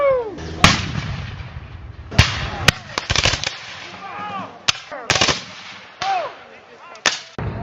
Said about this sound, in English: the firing of cannons and muskets